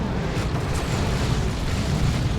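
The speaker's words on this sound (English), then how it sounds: "I believe the Avatar's death explosion causes knockback." Eldar Avatar's death explosion in Dawn of War 2, a dense, rumbling boom blended with a continuous roar of battle noise, loud and sustained across the whole moment.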